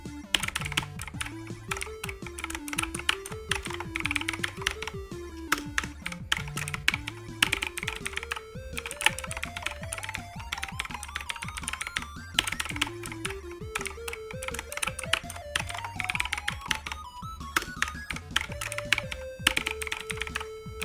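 Steady, rapid typing on a computer keyboard continues throughout, with a quick clicking rhythm of keystrokes over a looping background melody.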